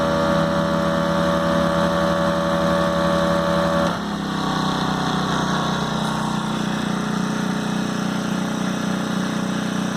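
A Ryobi propane-powered generator runs close by with a steady hum, then at about four seconds its engine throttles down into a lower, softer drone that continues to the end.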